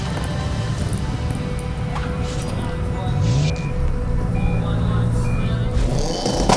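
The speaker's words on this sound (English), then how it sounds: "Both clean launches off the line, round the first barrel from both drivers." Subaru all-wheel-drive cars launch off the line in a timed motorsport race, with engine noise rising under steady commentary, and the revs climb more loudly toward the end.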